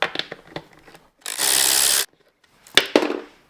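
A tool works 10mm bolts out of the rear seat cowl on an Aprilia 660 motorcycle, making short metallic clicks and scrapes around a sustained whirring burst of about a second, close and without talk.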